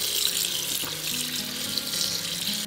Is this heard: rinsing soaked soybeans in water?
yes